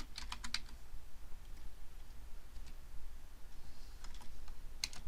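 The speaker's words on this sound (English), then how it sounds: "I'm going to hit F2 on my keyboard and just add the word on there" Typing on a computer keyboard at a desk while entering text in a spreadsheet. A quick cluster of key clicks comes first, then a few scattered taps, and another short burst near the end over a low background hum.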